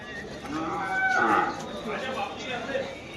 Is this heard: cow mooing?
yes